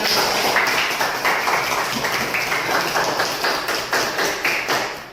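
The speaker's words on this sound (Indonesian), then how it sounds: "Tepuk tangan semuanya." Children in a classroom clap together in quick, rhythmic bursts, loud and close, with the pattern repeating several times before fading.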